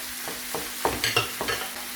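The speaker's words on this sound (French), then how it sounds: "J'ajoute la viande hachée." Minced meat scraped and stirred in a hot frying pan, quiet sizzling broken by a handful of sharp spatula scrapes at an irregular pace over a soft background hum.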